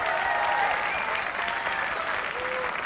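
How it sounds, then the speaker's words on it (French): Steady applause from a French television studio audience as a guest footballer is welcomed onto a late-1990s talk show, dense and continuous throughout with a faint murmur underneath. "on peut vous applaudir."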